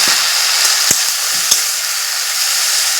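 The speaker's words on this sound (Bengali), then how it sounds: "আবারও একটু নাড়াচাড়া করে নিচ্ছি বেসন একটু নাড়াচাড়া করে নিয়েছি" Gram flour (besan) is stirred in a hot frying pan, giving a steady low hiss with a few sharp scraping clicks of the spoon against the pan; close, alone, no talk.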